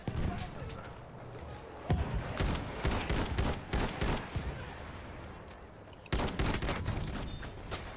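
Gunfire from behind the player in the World War I shooter Battlefield 1: dense, rapid bursts of shots and crackling fusillades, loud and continuous, with brief lulls between volleys.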